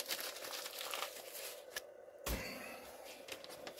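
Packaging being torn and crumpled up close while a hunting-themed gift set is wrapped, a run of quiet crinkles and rips with a short pause midway, then more rustling.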